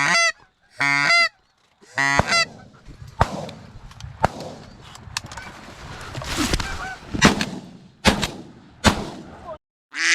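Shotgun blasts during an early-season goose hunt in Illinois, several sharp loud reports spread over the clip amid close honking geese calls.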